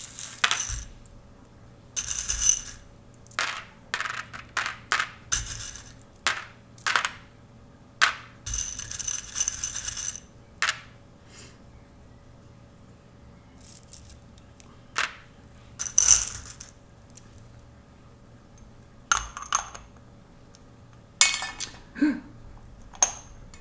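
Small metal charms clink and rattle in scattered bursts as they are shaken and cast onto a surface, bright jingles separated by quiet pauses, close by with no talk.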